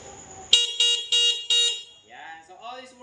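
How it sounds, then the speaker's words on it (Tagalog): A UTV 200cc 4x2 farm vehicle sounds its horn in four short, loud, close honks in quick succession, followed by someone talking. "Busina po."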